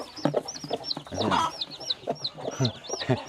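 Mother hen clucking among her newly hatched chicks on a small poultry farm, close and clear, a run of short soft clucks mixed with high peeping chick calls throughout.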